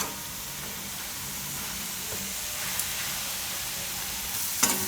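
Spinach cooking in a pan gives a soft, steady sizzle and hiss, with a couple of faint clicks from stirring near the end.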